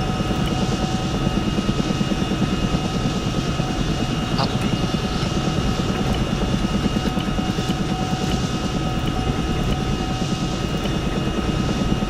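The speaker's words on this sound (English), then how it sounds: "How characterful is your helicopter? Well, listen to us when you fly." A military helicopter in a video game flies with a continuous loud rattling rotor thrum and engine drone that stays steady throughout, with no talking over it.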